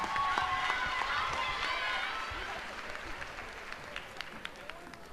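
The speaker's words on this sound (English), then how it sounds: "Ladies and gentlemen, can we please give a round of applause to the family and the legacy one more time?" Audience applause fills a gymnasium at the close of a debate night, a dense wash of clapping that starts strong and slowly thins out over several seconds.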